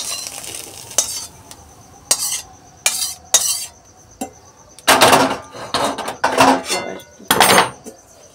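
Egg bhujia is scooped out of a pan after the gas is switched off. A spoon scrapes and knocks against the metal in repeated loud clattering bursts, separated by short quiet gaps.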